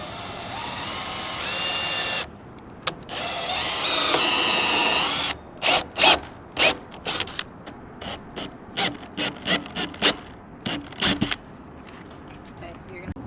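A step drill bit bores a 1-1/8 inch air vent hole through a plastic water tank, giving a few seconds of steady grinding whine, then a run of short bursts of drilling and scraping.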